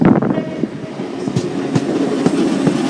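A Class 319 electric train pulls into Manchester Piccadilly station with a steady rumbling roll and sharp clickety-clack wheel beats over the rail joints, loud and close.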